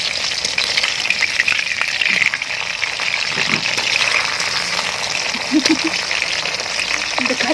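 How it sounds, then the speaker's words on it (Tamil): Anchovies (nethili) deep-frying in hot oil for a crispy fish 65, with curry leaves added near the end: a loud, steady, close crackling sizzle that runs unbroken throughout, with a voice faintly underneath. "இது நல்லா மீன் பொரிச்சிட்டு லாஸ்ட்டாக வந்து இதில் கருவேப்பிலை போட்டு பொரிச்சு எடுத்தோன்னா செம்மையாக இருக்கும்"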